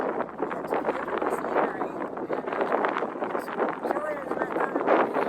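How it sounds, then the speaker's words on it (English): Strong, steady wind roars and buffets the microphone throughout on a cold mountaintop in Southern California, with a person talking underneath the constant gusty rush. "it is really windy up here and actually cold"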